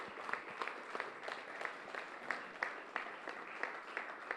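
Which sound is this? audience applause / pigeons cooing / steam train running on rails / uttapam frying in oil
audience applause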